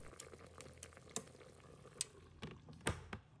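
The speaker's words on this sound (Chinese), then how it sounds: "用筷子和铲子小心地将猪蹄翻面，让另一面也能充分吸收锅底的香味和汤汁。" Pig trotters are turned in a simmering pot with chopsticks and a spatula, giving scattered soft scrapes and knocks over a quiet bubbling of liquid, with no one talking.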